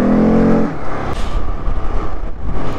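ATVs on a mountain route, with a loud close engine droning steadily, then dropping into a rougher, uneven rumble as the quad bike moves over the terrain.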